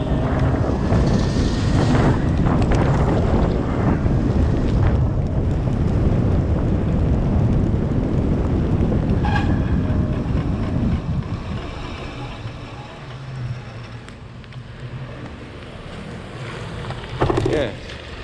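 A vehicle motor runs while driving, a loud, steady rumble mixed with wind buffeting that drops noticeably in level after about eleven seconds, then briefly swells near the end.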